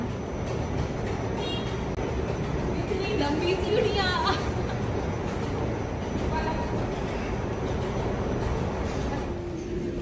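Steady low rumble of a metro train in China runs throughout, with people talking and murmuring nearby over the continuous noise.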